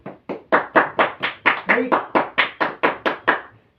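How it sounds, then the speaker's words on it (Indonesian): Students in a classroom clap together in a steady, even rhythm, about thirteen crisp, close claps, with a brief spoken word near the start. "Mari tepuk tangan"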